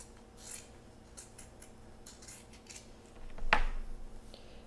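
Scissors make a single sharp snip through a piece of felt, close by against a quiet background with faint rustling beforehand.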